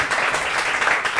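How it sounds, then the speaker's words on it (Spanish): A small group applauds as invited musicians, the mezcaleros, are welcomed, giving a brief, full wash of clapping hands at close range with no speech over it. "Un aplauso, muchachos"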